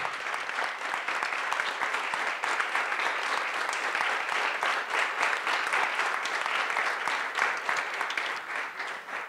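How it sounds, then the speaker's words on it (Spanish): Audience at a film festival panel discussion applauding the guests, a dense, even round of clapping that holds steady from start to finish at moderate loudness. "darles un fuerte aplauso a todos nuestros invitados, Anita, José."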